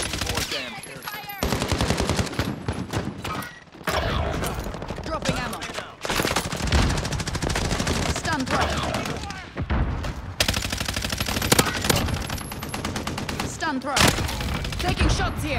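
Gunfire in Call of Duty: Modern Warfare, loud rapid automatic bursts repeating almost without pause, broken by a few short gaps, with heavy booming shots mixed in.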